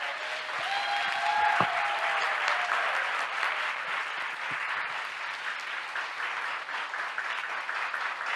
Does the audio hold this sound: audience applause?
yes